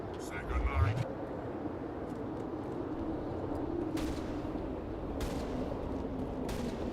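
Shotgun blasts in Mass Effect Legendary Edition, a few sharp broadband bangs spaced a second or so apart over steady game ambience, with a voice talking at times.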